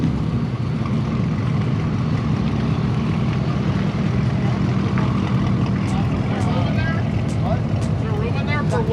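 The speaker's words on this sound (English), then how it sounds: "There's a couple cars that are pulling out right now." Cars, including a Mustang, pull out of a car meet in a continuous engine rumble and drone, with voices faintly present in the background.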